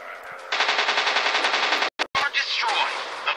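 A warplane's machine gun in the War Planes video game fires a rapid, loud burst of evenly spaced shots for over a second, then breaks off into a brief gap before further gunfire and engine noise.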